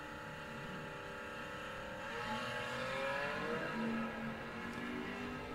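Stock Eliminator drag racers, a Pontiac Firebird and a Chevy II, launch at a bracket racing event. Loud, steady engine roar holds throughout, with revving pitch climbing as the cars pull away, close and continuous.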